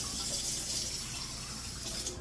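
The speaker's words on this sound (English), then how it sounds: "Tap water's good enough." Tap water pours steadily into a cup in a kitchen, a close, continuous hissing splash with no talking.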